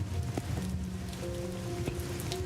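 Rain falls steadily in the video game Rain Code, a constant hiss of drops on surfaces with faint tonal game sounds underneath and no talking.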